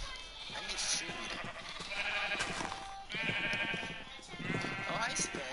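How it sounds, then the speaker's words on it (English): Sheep in a video game bleat repeatedly in short wavering calls, fairly close, mixed with a person talking over the game. "Oh, the purple sheep."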